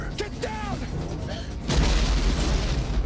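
A sudden deep boom of an explosion outside Buckingham Palace in a film erupts partway through, followed by a rumbling roar, after a stretch of faint voices and background sound.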